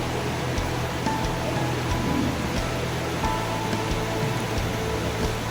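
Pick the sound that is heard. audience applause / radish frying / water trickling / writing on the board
water trickling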